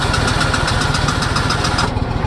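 A Simplicity Legacy 20 lawn tractor engine cranks over with a fast, rhythmic chugging from the starter, loud and close, running steadily for about two seconds before easing off.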